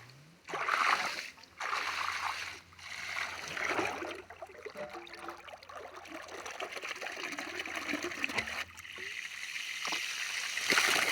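Water gushing fast from a farm pipe, a close, steady rushing and splashing flow that comes in bursts early on and then runs continuously, growing slightly louder toward the end.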